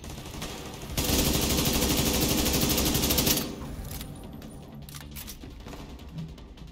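Gunfire in the video game The Division 2: a sustained burst of rapid automatic fire lasting a couple of seconds, followed by quieter scattered shots and game noise.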